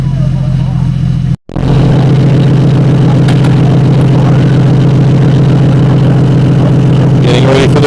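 A burnout car's engine revs loud and close in a steady, rough roar, cut by a brief drop to silence before resuming at full intensity.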